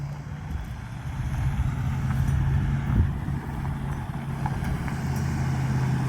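An old truck rolls in at a metal-fabrication and exhaust shop, its engine a steady, moderately loud low rumble that holds throughout without a clear rise or fade.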